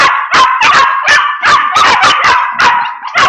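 A dog barks in quick, sharp, high-pitched yips, about a dozen close, loud bursts in an uneven rapid rhythm with no talk over them.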